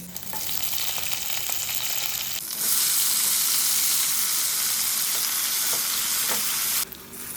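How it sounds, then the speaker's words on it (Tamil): Chopped onion, tomato and green chili sauté in hot oil with mustard seeds and chana dal in a kadai, a steady loud sizzle that swells louder midway and runs without speech. "ஒரு கடாயில் எண்ணெய் விட்டு கடுகு கடலைப்பருப்பு போட்டுட்டு நம்ம வெட்டி வச்சுருக்கிற வெங்காயம், தக்காளி, பச்சை மிளகாய் எல்லாத்தையும் போட்டு நல்லா வதக்கிக்கணும்"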